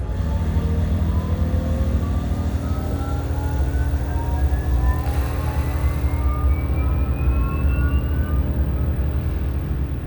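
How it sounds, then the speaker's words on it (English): Simulated aircraft takeoff on a time-travel ride at Lake Wakatipu, Queenstown: a loud, steady engine roar with rising whine tones climbing in pitch throughout, without talk. "So, we're cleared for takeoff."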